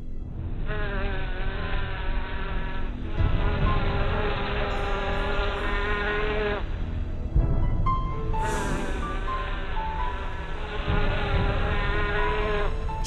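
A bee buzzes close by near a crab spider on a flower, a steady droning hum that rises and dips slightly, with a couple of brief breaks.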